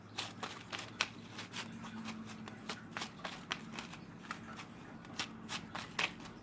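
Tarot cards are shuffled by hand close by, producing faint, rhythmic papery riffles and slaps repeating steadily throughout.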